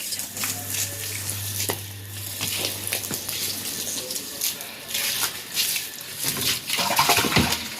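Water runs into a household storage tank, a steady rushing flow over a low background hum, with scattered clatter and faint voices at times.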